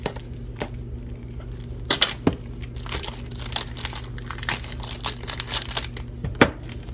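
A Bullet Express slicer and grater shreds cheese that is still partly frozen: a steady motor hum runs under crunchy, crinkling scraping bursts, with a few sharper knocks.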